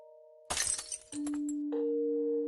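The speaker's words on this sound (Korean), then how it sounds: "잔이 벤치에 부딪혀 깨지면서 우유와 유리 조각들이 사방으로 흩어졌습니다" A glass cup full of milk smashes against a bench in a sudden loud shatter with scattering shards, followed by sustained electronic tones.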